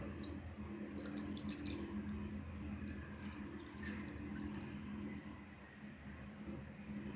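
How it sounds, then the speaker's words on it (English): Lye solution pours softly and continuously into oil during soap making, a quiet trickling wash with faint splashes, heard close and alone. "Once I pour in this lye solution"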